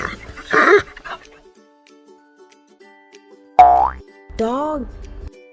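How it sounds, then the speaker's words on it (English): A dog gives two loud, yelping barks with a wavering, rising pitch, following a short stretch of speech, in a simple farm-animal sounds lesson. "This is a dog. Dog says woof, woof."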